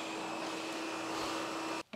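A SEBO D4 Premium German canister vacuum cleaner running with a steady, loud whining roar and a constant tonal hum, briefly dropping out near the end.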